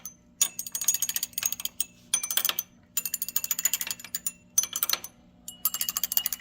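Rapid rattling clicks of a stir rod or spoon against lab glassware while mixing a solution of a non-polar substance that stays undissolved, coming in bursts with brief pauses, close and fairly loud, no talking.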